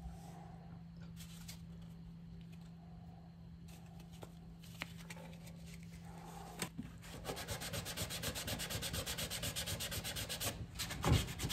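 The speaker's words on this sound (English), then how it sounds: "I simply wrapped a piece of sandpaper around them to help me sand all the nooks and crannies of these feet." Hand sanding of wooden mid-century modern dresser feet with sandpaper wrapped around them, a close, steady scratchy rubbing that turns faster and more rhythmic toward the end.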